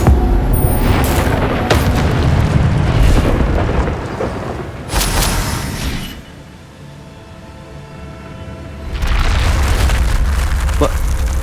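Incendio fire spell cast in the Hogwarts Legacy video game, heavy booming whooshes and bursts layered with game effects, loud and close, dipping briefly before another surge of rumbling blasts.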